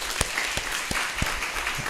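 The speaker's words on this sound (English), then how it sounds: "Again, give applause to all of us." Brief, sparse clapping from a lecture audience, a few distinct hand claps spaced apart over a soft background.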